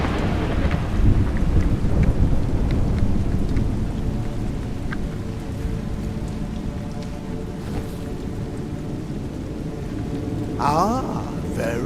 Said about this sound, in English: You seem surprised that rain comes from the heavens.